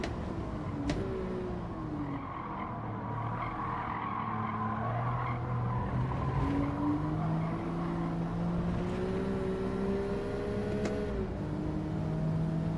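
Racing car engine screaming at about 8,500 RPM, its pitch climbing and falling in sweeping runs with a tire squeal, loud and steady throughout with no talk.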